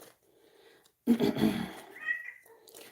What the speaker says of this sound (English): You guys remember my kitty Freya?